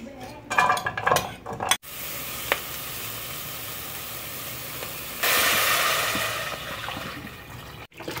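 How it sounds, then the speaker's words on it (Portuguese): Chopped vegetables are sautéed in a pan for a regional Amazon fish stew, with a steady close sizzle after a few clattering stirs and a louder hiss surging midway. "agora vamos refogar a verdura"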